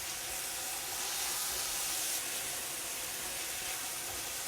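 Nopales with egg and tomato cooking in a pan, a constant bright hissing sizzle that holds at an even level from start to finish, nearby and without talk.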